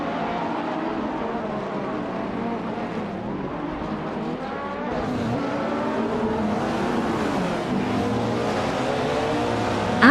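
A 2011 Ferrari 458 Italia race car in a racing video game: a sustained, loud engine whine that rises and shifts in pitch as it accelerates, with other cars droning underneath and no voices.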